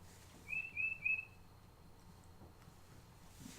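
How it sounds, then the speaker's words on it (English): A bird chirps indoors, three quick high tweets in a row near the start, then only a quiet room. "This is a bird, directly. In the room."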